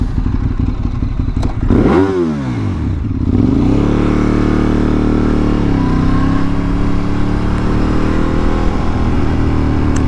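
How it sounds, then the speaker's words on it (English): A Ducati 848 motorcycle engine blips and revs loudly up and down close by, then settles into a throbbing idle with a heavy, even pulse. "Everyone likes a little rev."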